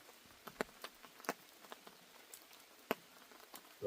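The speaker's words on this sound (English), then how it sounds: "Finally got some rain." Light rain at a wild camp near Ben Nevis, with scattered individual drops tapping close by against a quiet background, irregular and sparse.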